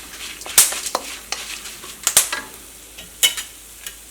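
Ingredients frying in a pan for a chutney, stirred with sharp scraping clicks and soft sizzling, several close, irregular strokes.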